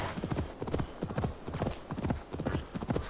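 Horse hooves clip-clopping in a fast, steady rhythm in the video game Assassin's Creed Valhalla, close and prominent with faint game ambience around them.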